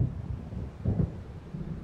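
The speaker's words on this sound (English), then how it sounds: "It seems there's a storm coming." Low rumbling thunder from an approaching storm over a lake in the video game Alan Wake, rolling steadily with a louder swell near the middle, heard alone.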